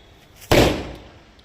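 A red bijili firecracker goes off in a single sharp, loud bang that decays quickly, standing alone without any talk.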